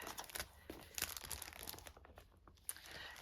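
Sheets of stickers for page kits being handled, giving quiet, close crinkling and rustling paper sounds with a few sharper crackles, faint and without talk.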